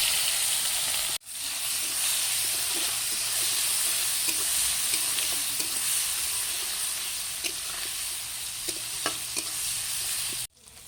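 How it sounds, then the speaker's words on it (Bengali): Fish coated in salt and turmeric frying in a pan, giving a loud, steady sizzle with small pops and crackles that runs almost without a break before cutting off. "মাছটা লবণ হলুদ মাখিয়ে ভেজে নামিয়ে নিলাম।"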